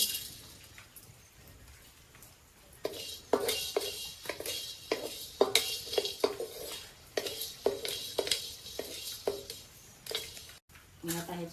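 Malvani vada batter ingredients mixed in a metal pot with peppercorns added, quiet at first, then repeated close clinks and scrapes of a utensil against the pot in an uneven rhythm, with someone talking faintly underneath.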